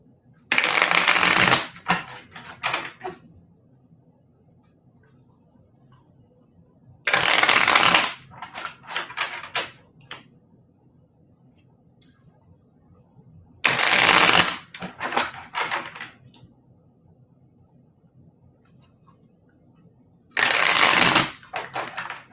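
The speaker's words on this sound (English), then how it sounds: "So as I'm shuffling the cards, Karen, I'm going to say this." A deck of cards is riffle-shuffled up close during a card reading, four crisp bursts of rapid flapping spaced evenly apart, each followed by a few light taps and quiet gaps.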